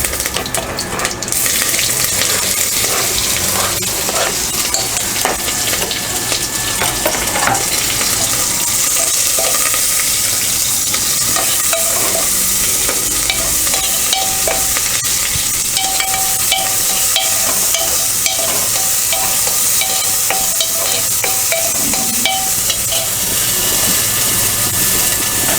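Onions and green chilies sizzle steadily in hot oil in a pan, a continuous loud hiss that stays even throughout, with occasional faint clinks and no talking.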